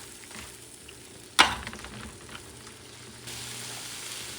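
Seafood rice ingredients for Spanish arroz con marisco are stirred in a hot pan over medium heat, giving a sudden loud scrape and splash, then a steady soft sizzle that grows slightly louder near the end.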